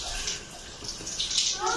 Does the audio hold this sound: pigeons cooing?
no